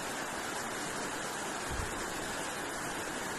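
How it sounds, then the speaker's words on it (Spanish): The river beneath the Puente de el Refugio in Martínez de la Torre, Veracruz, Mexico, gives a faint, steady broadband rush of flowing water, unbroken and without voices. "Y ahí el río, miren."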